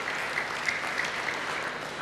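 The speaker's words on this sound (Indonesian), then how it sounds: "Beri tepuk tangan yang baik bagi dia." A church congregation at a sermon claps in a brief, steady burst of applause, fairly close and even throughout.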